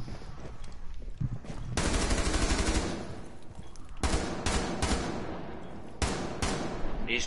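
Rapid bursts of automatic gunfire in Rainbow Six Siege, loud sustained volleys broken by short pauses and separate sharp shots, with no talking over them.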